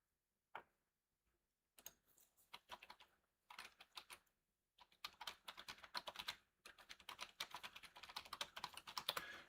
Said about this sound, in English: Typing things.